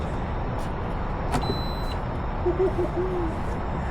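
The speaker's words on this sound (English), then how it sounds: "plug it, and then it beeps, turns on automatically" A single short electronic beep sounds once as a 16-liter car refrigerator is plugged in inside a Tesla, over a steady low rumble of the car interior, followed by faint low tones.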